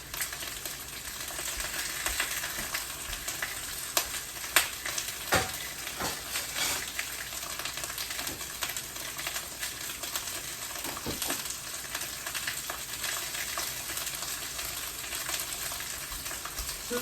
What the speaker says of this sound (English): Sizzle, snap, crackle, pop.